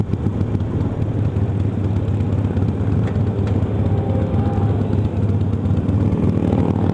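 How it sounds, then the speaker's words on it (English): A group of motorcycles rides past on the road, a steady low engine rumble that stays dense and continuous throughout without clear gaps, with no talking. "Look at all these bikes going for the ride."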